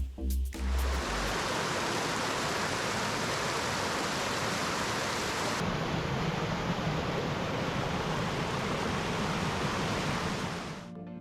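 Rainy-season Etiwanda Falls waterfall in Rancho Cucamonga, California, pours as a loud, steady broadband roar that fills the whole stretch without a break, with no voices over it.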